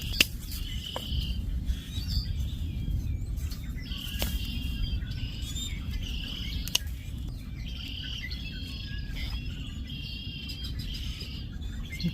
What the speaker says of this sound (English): Some crazy birds out here.